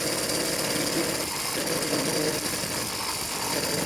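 A 100cc motor fitted to a bicycle runs choked at full throttle, giving a steady, loud, buzzing drone that never drops off for the whole stretch, with no talk over it.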